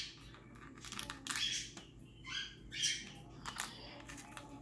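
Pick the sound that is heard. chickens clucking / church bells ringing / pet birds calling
pet birds calling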